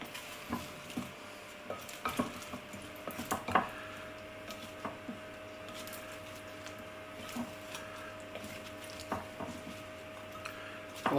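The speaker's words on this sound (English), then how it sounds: "Give it all a good stir." Roasted carrots and cauliflower being tossed with spices in a bowl, a soft steady stirring with scattered light scrapes and clicks at moderate distance, no talking.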